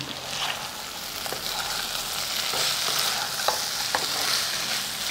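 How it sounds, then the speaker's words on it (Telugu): Pumpkin and jaggery fry with coriander being stirred in a pan, giving a steady sizzle with scraping stir strokes and a few sharp clicks of the spoon, close and with no talk. "అలాగే కొత్తిమీరను కూడా వేసేసుకుందాం ఇప్పుడు ఒకసారి కలుపుకుందాం"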